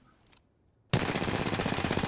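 A full magazine of gunshots fired in rapid automatic succession after a moment of near silence, a loud, dense burst of reports running to the end.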